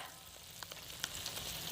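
Small spoonfuls of batter fry in hot oil, giving a steady sizzle with a few faint pops. No one speaks.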